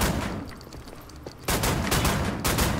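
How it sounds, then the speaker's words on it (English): Rapid bursts of gunfire in Wolfenstein The New Order, quieter shots at first, then louder dense automatic fire up close. "Maybe if I shoot straight, Ozzy, that might be a good idea."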